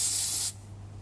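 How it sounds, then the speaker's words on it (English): Cooling spray from an aerosol can lets out one short, loud, close hiss lasting about half a second, then cuts off to a quiet background hum. "Now, I've got some cooling spray here."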